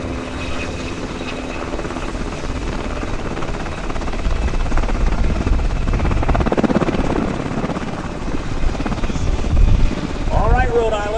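A UH-60 Black Hawk helicopter descends slowly to land during a demo at the 2012 Rhode Island airshow at Quonset. Its steady rotor and engine roar carries on throughout, with an announcer talking over it on the public address.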